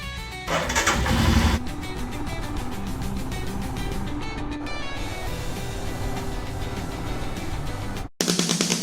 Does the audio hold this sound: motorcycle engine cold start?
yes